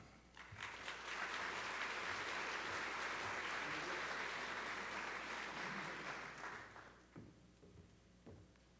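An audience at the Congressional Art Competition afternoon reception breaks into sustained applause that rises quickly, holds steady for several seconds, then fades out to a few scattered claps.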